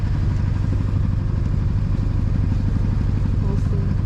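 A sailboat's auxiliary engine runs steadily on a coastal passage, a loud, continuous low chugging drone with a rhythmic mechanical pulse and no letup.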